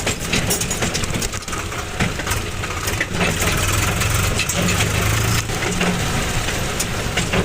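A JCB engine runs steadily while loading tractor trailers on a farm, a continuous loud diesel drone with low rumble throughout, no talking.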